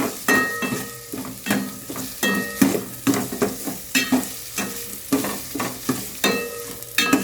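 Chicken sautéing in a thin pot while being stirred, with rhythmic scraping strokes roughly every half second over steady frying noise.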